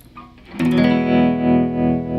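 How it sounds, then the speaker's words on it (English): An electric guitar played through a Fender Tre-Verb pedal set to bias tremolo: a single strummed chord rings out after a short quiet lead-in, sustaining loudly with a gently pulsing, wavering swell. "Now let's check out how the bias tremolo sounds."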